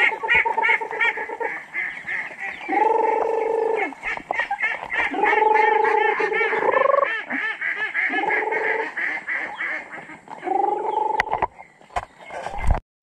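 A crowd of chickens and turkeys calls nearby: loud, rattling, honking calls come in repeated bursts of a second or two with short gaps between them, ending with a few knocks.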